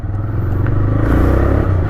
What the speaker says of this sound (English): it's got a good beat as well, good exhaust note